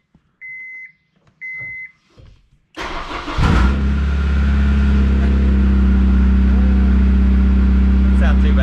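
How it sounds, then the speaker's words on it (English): A Honda car engine cold-starts after two short electronic beeps, the starter churning briefly before the engine catches and settles into a loud, steady idle, heard close up. "How about we give a little Honda cold start action for you here."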